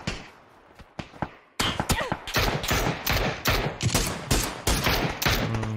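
SLR semi-automatic rifle shots in PUBG team deathmatch, a sparse few early then a steady tapped run of sharp, loud cracks at a quick even pace, each shot ringing out in gaming combat.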